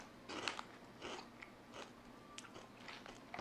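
Crunchy barbecue-flavored protein chips being bitten and chewed up close, a series of crisp crunching bursts spread unevenly over a few seconds with no talking.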